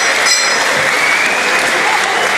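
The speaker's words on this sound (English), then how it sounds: "Once again, a big round of applause there." A crowd applauds at a women's boxing bout after a split decision, a dense, steady wash of clapping throughout with no voices on top.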